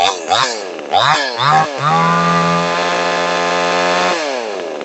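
A cordless chainsaw for cutting fruit tree branches gives several short, loud revs and then settles into one steady, high whine that holds for a couple of seconds before winding down.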